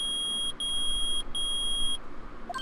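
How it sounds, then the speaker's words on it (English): A loud, steady electronic beeping tone from a metal detector in the video game Phoenix Wright: Ace Attorney sounds in long stretches, broken by a few short gaps, over a low background hum. "It's beeping. The metal detector's found something."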